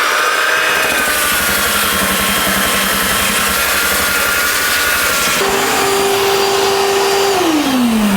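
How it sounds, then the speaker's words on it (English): Powered sander working an 80 grit sheet across a painted sign to strip its finish, a loud steady whine running throughout with a pitch shift partway through, no talk. "I'm going to go ahead and sand this off. I'm just going to use my little 80 grit and then a fine sand after that."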